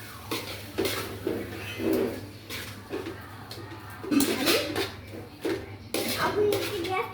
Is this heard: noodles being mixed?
yes